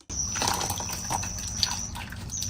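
Hot water drains from tofu skin just blanched for fifteen seconds, a continuous close trickle and patter of liquid running through a strainer, with no talking.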